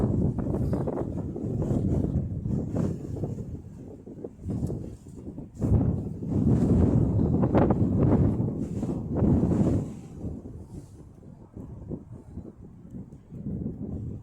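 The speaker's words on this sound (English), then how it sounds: "the wind is still taking over my footage" Strong gusts of wind buffet the microphone outdoors, a continuous loud rumbling roar that swells and eases across the whole stretch, with no voices heard over it.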